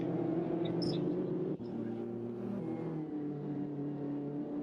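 Mini Challenge UK race cars in a racing video game at Snetterton 300, a steady droning engine hum with layered tones held at constant pace, moderately loud and continuous, with a brief dip partway through.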